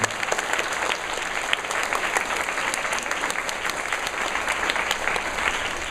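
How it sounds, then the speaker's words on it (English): Dense, steady applause from an audience honoring parents at an elementary school National Honor Society induction ceremony, continuous and fairly loud throughout with no talking. "let's give our parents here another round of applause"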